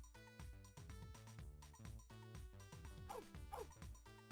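Puppy barking in a video game, a run of repeated small yips and barks in a steady rhythm, fairly faint and alone without talk.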